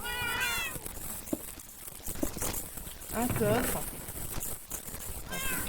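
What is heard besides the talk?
kittens meowing in SurvivalCraft video game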